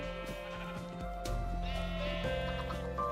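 Sheep bleat continuously in the Minecraft video game as a flock is herded into pens, several overlapping bleats loud and close over steady background game sound.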